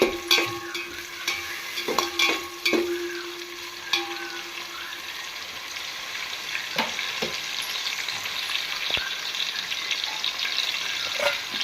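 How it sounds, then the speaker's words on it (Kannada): Onions and tomatoes frying in oil in a pan for tomato bath, a steady sizzle broken by sharp stirring clinks and scrapes early on. Nobody speaks. "ಈರುಳ್ಳಿ ಫ್ರೈ ಹಾಕಿ ಟೊಮೆಟೊ ಕೂಡ ಹಾಕ್ಕೊಂತೀನಿ ನೋಡಿ"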